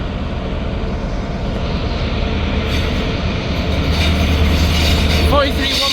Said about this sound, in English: Departing out now is the 1359 Scotrail service from Aberdeen to Glasgow Queen Street